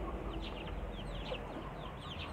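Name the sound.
free-range kampung chickens clucking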